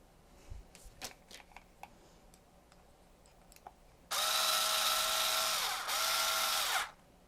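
A small power screwdriver whirs close by for about three seconds, driving small screws into a Makeblock robot kit, after soft clicks and handling of parts, with no talking.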